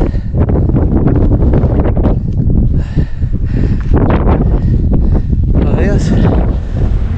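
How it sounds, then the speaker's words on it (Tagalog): Strong wind on a hilltop buffets the microphone in loud, rough gusts, roaring and rumbling continuously with brief dips between blasts. "Ang hangin"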